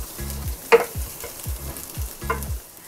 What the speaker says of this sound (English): we're gonna put our oil, and we're gonna put our onions in there. Okay, and we're going to saute this under medium-high heat.